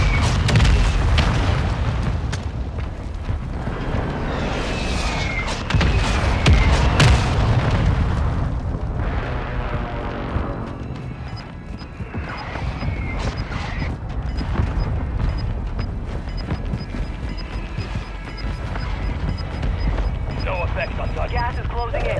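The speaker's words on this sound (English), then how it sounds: "Mortar strike inbound now." Mortar strike explosions from a battle royale video game, several heavy booms and rumbling blasts across a dense, loud mix of game effects, with voice lines spoken over the action.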